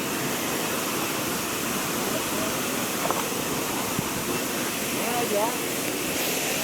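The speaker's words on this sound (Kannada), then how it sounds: "ನೋಡಿ ಲಾಸ್ಟ್ ಒಂದ್ಸತಿ ಫಾಲ್ಸ್ ನೋಡ್ಕೊಂಬಿಡಿ." Soormane waterfall on a Netravati trek roars as a broad, steady rush of water. It stays loud and constant throughout, with faint voices in the background.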